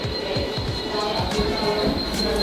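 Train pulling into a station on the Trimbakeshwar route, loud close rolling rumble with rhythmic wheel clatter and a thin high squeal running throughout.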